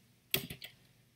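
A quick burst of three computer keyboard keystrokes, the first loudest, sharp and close, followed by quiet.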